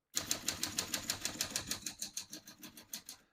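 A 1945 Smith-Corona Clipper portable typewriter types in a quick, even run of close sharp keystrokes, about a dozen crisp clacks alone with no voices.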